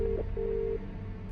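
A telephone tone after a cut line: short steady electronic beeps, one brief tone followed by a longer one, over a low background hum.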